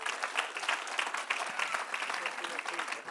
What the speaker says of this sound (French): au père Vincent Grillet, qu'on peut applaudir chaleureusement.